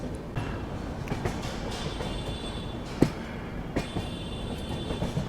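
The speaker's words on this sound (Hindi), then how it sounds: "चलिए अराइवल अभी हो रहा है अपना झांसी रेलवे स्टेशन पर।" The Karnataka Sampark Kranti train rolls into Jhansi railway station, its carriages rumbling with wheel clatter and a sharp metallic knock midway, moderately close inside the coach.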